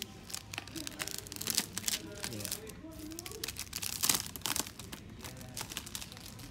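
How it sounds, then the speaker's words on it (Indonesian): Plastic shrink-wrap is torn and crinkled off a PS4 game case, Star Wars Battlefront II, in close bursts of crackling and ripping, with someone talking over it. "Suara plastik unboxing."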